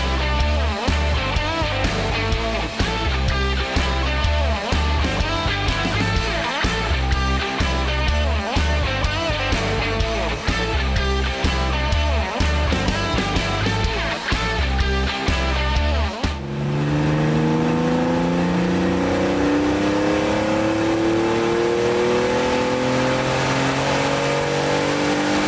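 Porsche 997.1 Carrera 2 flat-six on a dyno with an aftermarket intake filter, running hard and loud for about sixteen seconds, then cutting off as the revs fall away in a long, steady wind-down.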